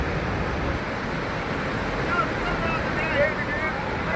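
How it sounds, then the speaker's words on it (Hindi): Rushing floodwater after a cloudburst in Himachal Pradesh pours down a slope as a steady, dense roar with wind buffeting the microphone. The roar stays continuous and loud throughout, and a voice talks faintly beneath it. "आप देखिए जब पानी आ रहा है तो कैसे, कितनी तेज़ी से और कितनी मात्रा में"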